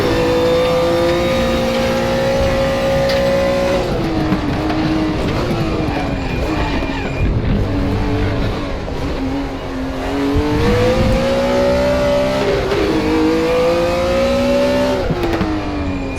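A BMW M1 Procar race car in a racing video game, its engine revving hard and continuously, climbing through high revs with repeated gear-change dips, loud and up close with no talk.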